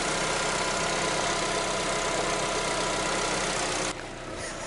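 A Lada Vesta engine idles steadily, warming up after a spark plug change, a smooth continuous hum that drops slightly in level near the end, with no talking.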